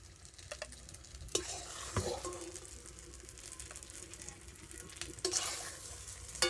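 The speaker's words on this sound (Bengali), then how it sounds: "হালকা জাল দিয়ে এইভাবে নাস্তাগুলোকে বাটারের মধ্যে হালকা করে ভেজে নেব" Snacks frying gently in butter over low heat, a soft, quiet sizzle broken by a few sharp scrapes and clinks of stirring in the pan, with no talking.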